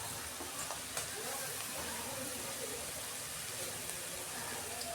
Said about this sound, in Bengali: এবার রসুনটা দিচ্ছি তেলের মধ্যে।